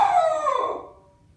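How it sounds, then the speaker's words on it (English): A dog lets out a single strange howling cry, loud and close, sliding downward in pitch and fading out over about a second. "I just heard a dog make a really weird noise,"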